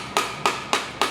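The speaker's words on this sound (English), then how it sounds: "grab a plastic hammer. And this is a good way to make sure we get this plug in" A plastic hammer taps a plug into the front cover of a 5.3 liter LS LM7 V8 engine: four evenly spaced, crisp knocks, close and alone.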